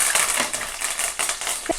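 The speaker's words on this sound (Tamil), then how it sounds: "கடுகும் சீரகமும் பாருங்கள் நல்லா வெடிச்சு வருது" Mustard and cumin seeds crackle and pop in hot oil while tempering for sambar, giving close, sharp, irregular spitting crackles in quick bursts with no talking over them.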